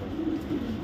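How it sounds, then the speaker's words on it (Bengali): A large female silver Afsan grizzle pigeon gives a low, soft coo, close by and steady, with no voices over it. "এটা একটা মাদি কবুতর"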